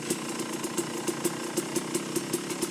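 KTM 250/300 two-stroke dirt bike engine fitted with a Rekluse RadiusX auto clutch, idling in first gear after coming to a stop, a loud, close, steady rhythmic knocking putter with regular pulses, no voices.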